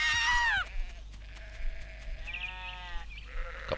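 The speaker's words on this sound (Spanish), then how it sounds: "Toma tu oveja." Sheep in the video game Black & White bleat loudly up close, one long wavering cry followed by quieter, shorter bleats over a steady background hum.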